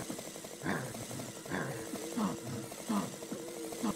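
Zombie groans from the ragdoll physics video game Undead Rider, a series of repeated guttural moans about once a second over a low background hum and game music.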